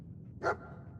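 A single short bark from Dogmeat, the dog companion in the video game Fallout 4, rings out clearly once over a quiet low background hum.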